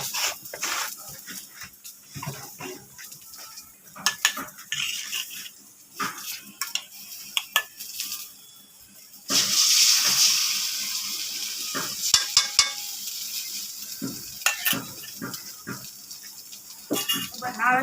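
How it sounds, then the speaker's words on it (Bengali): Eggs drop into hot oil in a pan and set off a sudden burst of sizzling that holds for a few seconds. Scattered kitchen clatter and a person talking come before and after, with a dog audible too. "এবার আমি ডিম দিয়ে দেব।"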